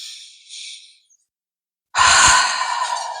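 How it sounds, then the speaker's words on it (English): A single deep breath is drawn in and then released in a long, close exhale after a short silence. "I take a huge breath"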